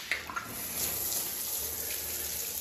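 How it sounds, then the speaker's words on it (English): Water keeps running and draining through the pipes of an old château after the supply has been partly shut off. It makes a steady, soft rushing and trickling flow with a couple of faint knocks at the start. "So the reason the water's still coming, of course, is because there's pipes all over this house and they're all draining."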